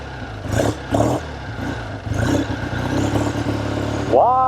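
A 1970 Triumph TR6 Tiger motorcycle engine rumbles up close with a couple of quick blips, then revs higher, and a rising whine follows at the end.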